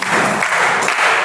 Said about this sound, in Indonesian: tepuk tangan biasa 3 kali ya